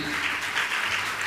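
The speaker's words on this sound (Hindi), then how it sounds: "आपकी तालियां बजनी चाहिए।" Audience applause fills a Jain religious gathering, a steady wash of clapping throughout this short moment with no voices over it.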